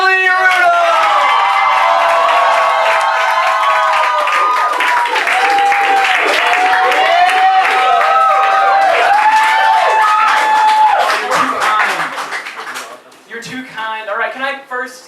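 Loud audience applause with cheering and whoops at a stand-up comedy show, greeting the comedian as he takes the stage; dense and sustained, tapering off near the end as a voice begins to speak.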